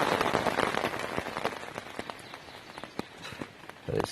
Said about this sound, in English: It has rained all night, non-stop. Still raining now.